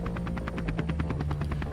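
A helicopter flies nearby during a remote polar ice expedition, its rotor blades chopping out a rapid, loud, steady rhythm over a continuous engine drone.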